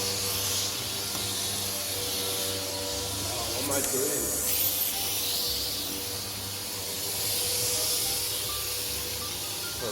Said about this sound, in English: So if I switch the Hoover on,